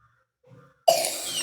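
A sick child with a cold and fever coughs, a single sharp close cough preceded by faint murmuring, then a harsh raspy trailing breath.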